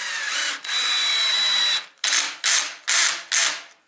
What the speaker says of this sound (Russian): Даже трещотка сработала.